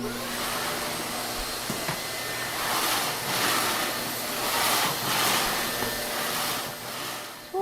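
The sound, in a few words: vacuum cleaner running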